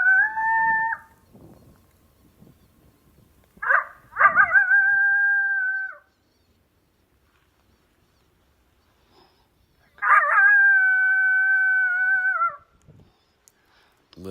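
Electronic predator caller playing a long male coyote howl during a night hunt: three drawn-out, wavering howls with yipping onsets, loud and clear against a quiet night, separated by long silences, with faint low talk early on.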